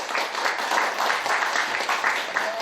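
An audience at a lecture on migrants and care work gives a welcoming round of applause for the speaker, a steady, dense clapping that holds for the whole stretch at moderate loudness.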